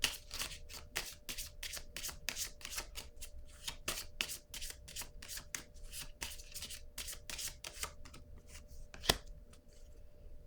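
Tarot cards riffle and slap in a steady run of crisp shuffling bursts, each quick papery flutter repeating close and clear, with a sharper snap near the end as a card is drawn.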